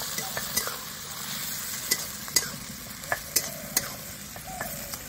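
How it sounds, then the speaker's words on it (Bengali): Chopped onions fry in a pan with a low, steady sizzle, broken by sharp clinks and scrapes as a spatula stirs them at intervals. No one speaks. "দাঁড়া পেঁয়াজটা একটু ভেজে নিই।"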